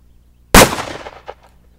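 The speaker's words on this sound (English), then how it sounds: "that was Joe shooting a 357 Magnum at the secondary steel plate" A single .357 Magnum gunshot rings out against a steel target plate, a sharp loud crack with a short decaying tail and a faint metallic ping from the struck plate just after, alone in otherwise quiet surroundings.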